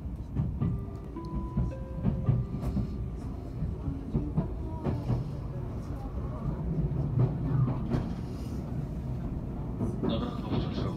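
Aboard a Tobu Liberty limited express arriving at Asakusa, a low rumble and clatter of the carriage as it slows, with a chime and faint spoken announcements.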